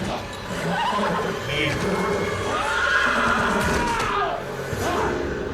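A horse whinnies loudly in a television drama scene, with hoof clip-clops beneath and people talking and reacting over it.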